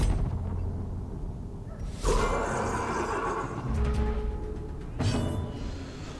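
A plow horse in the video game Darkest Dungeon whinnies loudly twice, a long neigh near the start and a second one toward the end, over a steady low rumble of game ambience.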